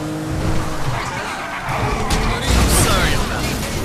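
Car driving in GTA V through open countryside, engine roar with tire skids and squeals rising over a steady, loud road rumble, a brief sharper screech near the end.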